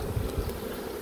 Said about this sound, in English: So that is covered in bees.